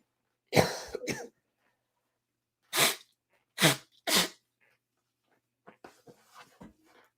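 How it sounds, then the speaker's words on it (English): A forceful nose blow in one long burst, followed by several shorter sharp blasts and a few faint sniffs, close to the microphone. "I gotta blow my nose real quick, by the way, so hold on here."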